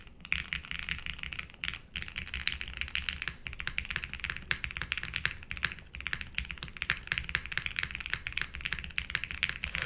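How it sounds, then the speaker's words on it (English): Typing on a Sonnet mechanical keyboard with lubed switches and lubed stock springs, palm plate and mid plate foam in a top-mount build: a steady run of close, muted clacks and taps with a foamy character, no talking. "let's just do a fake typing test as we normally do anyways"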